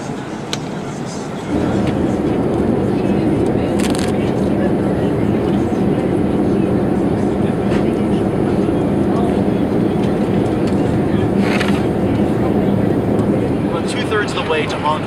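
Cabin of a Boeing 787 airliner in cruise over Kansai Airport toward Hong Kong, with a broad, steady engine and air roar that starts abruptly after a brief quieter moment and stays constant. People's voices are faintly mixed in.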